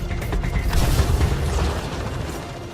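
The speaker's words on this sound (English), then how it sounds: "Let's finish it off with Flak Cannon and Trip Mines." Flak cannon blasts and trip mine detonations in a Mass Effect Andromeda firefight, a dense, continuous rumble of booms and mechanical clatter, loud and close, with no speech.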